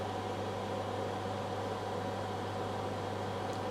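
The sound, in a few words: microwave oven running at full power on EcoFlow Delta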